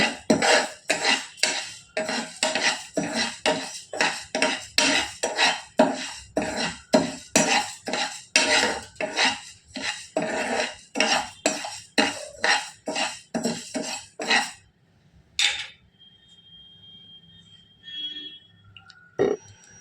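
Rice roasting in a hot pan while being stirred, a rapid regular series of scraping strokes repeating for about fifteen seconds, close and crisp, then stopping into quiet with a few faint clinks.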